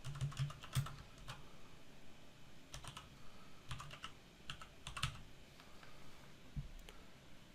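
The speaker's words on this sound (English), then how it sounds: "use our arrow keys and our backspace key to delete total, and change it to aquatic supply purchases" Keys clatter on a computer keyboard in irregular bursts of light, quick taps, with pauses between groups, fairly faint and close, no voice.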